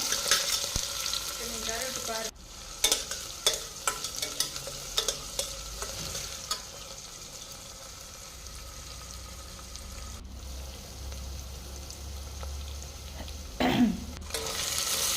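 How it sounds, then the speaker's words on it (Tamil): Chopped onions and green chilli sizzle steadily in hot oil for a vegetable biryani, with a spoon scraping and stirring through the pan in repeated clattering strokes, close and loud. "ரெண்டு வெங்காயம் கட் பண்ணியிருக்கோங்க அதையே சேர்த்திக்கலாம் சேர்த்திட்டு நல்லா கலந்து விட்டுக்கலாங்க"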